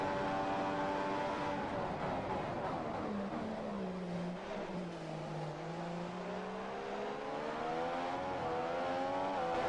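A Mercedes Formula 1 car races through the Chinese Grand Prix in the F1 2015 video game, its high engine whine loud and continuous, the pitch sliding down midway and then climbing again.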